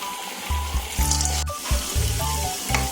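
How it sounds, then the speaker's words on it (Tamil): Pressed cassava vada dough fries in hot oil with a loud, bubbly sizzle and intermittent gurgling bursts that sound almost watery; no talking. "மாவை இந்த மாதிரி தட்டி எண்ணெயில் போட்டுக்கலாம்"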